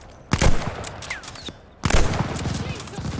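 Heavy gunfire bursts from the Call of Duty Vanguard campaign, two loud volleys with a pause between, trailing into sustained battlefield noise, with shouting voices mixed in.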